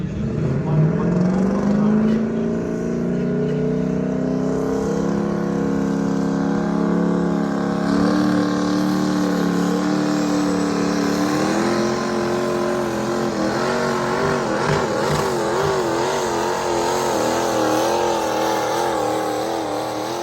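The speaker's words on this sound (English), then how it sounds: "here is Tony Burkhart's pole truck." Pulling truck engine at a truck pull event, loud sustained roar that climbs in pitch as it revs and strains, staying close and continuous throughout.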